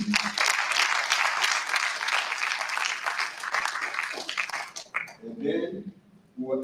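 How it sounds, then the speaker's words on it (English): A conference audience at a session on the afterlives of slavery applauds in a dense, continuous round that holds for about five seconds before dying away, followed by a voice speaking. "kindly give our audience a round of applause"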